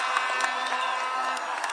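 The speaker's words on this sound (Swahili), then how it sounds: "Tumshangilie Mheshimiwa Rais kwa makofi" A crowd cheers and applauds for President Ruto at the Rironi-Mau Summit Road launch in Kamandura, Kiambu, a steady dense roar of voices and clapping with occasional shouts throughout.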